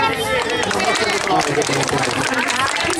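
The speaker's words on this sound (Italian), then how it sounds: "Può girare la testata verso il pubblico e farsi fare l'applauso." A beach crowd at the Bagno 81 beach club applauds a dog named Chiquita at an outdoor dog award ceremony. Dense, steady applause and crowd noise fill the whole stretch without a break.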